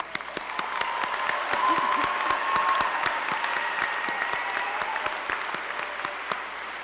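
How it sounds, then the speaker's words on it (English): Sustained applause fills a hall at an honors convocation, dense steady clapping from a large audience with a faint tone running beneath it. "It deserves another round of applause."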